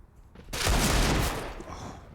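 Pistol gunfire during a professional Counter-Strike match on Overpass at IEM Katowice 2023 comes as a loud, rumbling cluster of overlapping shots that swells and then trails off over about two seconds.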